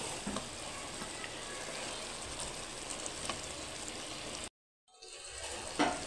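Green chillies hit a simmering chana dal curry, giving a constant close sizzle and hiss that briefly cuts out, then resumes.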